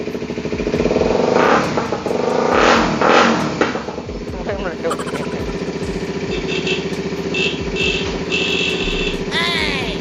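A used sport motorcycle at a dealership is started and revved. Loud throttle bursts come in the first few seconds, then it settles into a steady idle, with voices speaking over the engine.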